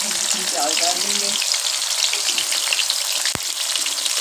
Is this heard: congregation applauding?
no